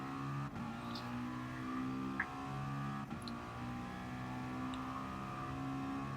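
A Gran Turismo Sport Gr.4 race car pulls at full throttle down a start-finish straight, a steady, moderately loud engine drone with layered harmonics and a couple of faint clicks, no voices.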